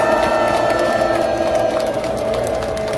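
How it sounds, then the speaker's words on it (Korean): A large crowd roars with cheers and applause at a public sovereignty declaration ceremony marking the March 1st Movement anniversary in Korea, a dense, steady wall of sound filling all three seconds. "우렁찬 함성 소리에 저도 힘이 불끈불끈 솟습니다"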